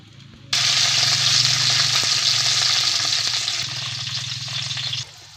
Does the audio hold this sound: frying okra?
yes